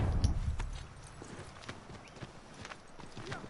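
Horse hooves clip-clop across the ground in Assassin's Creed III, a steady stream of moderately loud footfalls with low rumble early on, heard alone without talk.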